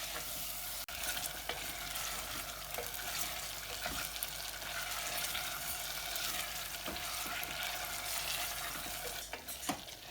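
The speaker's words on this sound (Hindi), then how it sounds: "तो इसको थोड़ा सा 3-4 मिनट के लिए हमने ऐसे ही हिलाना है जब तक इसका कलर चेंज ना हो जाए" Lamb pieces sizzle and crackle steadily in a pressure cooker while a utensil stirs them, with a continuous bright frying hiss and occasional scraping and knocking against the pot.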